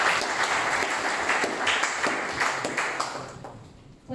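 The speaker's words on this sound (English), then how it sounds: "We may applaud him once again." Conference audience at a political party leaders' retreat applauding, dense sustained clapping that stays even, then thins and tapers off near the end.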